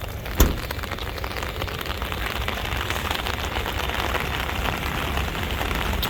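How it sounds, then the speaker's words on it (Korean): Heavy rain falling steadily outside around a Grand Starex van, a dense continuous patter with one sharper knock near the start and no voices. "오늘 생각보다 비가 좀 많이 오네요."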